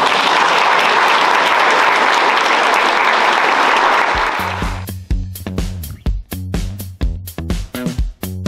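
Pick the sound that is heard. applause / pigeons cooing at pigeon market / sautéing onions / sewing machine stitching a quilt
applause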